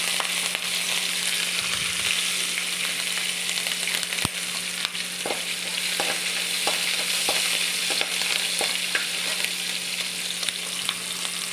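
Green chilies sizzle steadily in a hot pan as a spoon stirs them, with scattered scraping clicks over the continuous frying hiss, close and fairly loud, with no talking.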